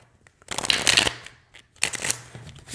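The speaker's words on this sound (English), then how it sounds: "Apparently I can't shuffle well today." Thin Golden Girls tarot cards shuffled by hand in two quick riffling bursts, close and crisp with a short pause between them.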